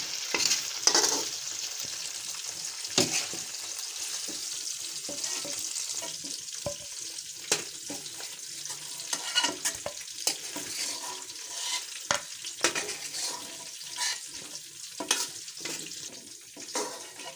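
Chicken pieces roasting and frying in hot oil in a pan for Chicken Manchurian, a steady close sizzle broken by scraping stirs and clinks of a utensil, with no talk.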